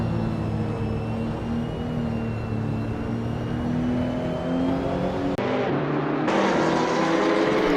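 GT3 race car engine at Spa in Assetto Corsa, a steady sustained onboard drone with rising pitch as it accelerates, then a sharp cut and shift around the gear change before pulling again, loud and continuous with no talk.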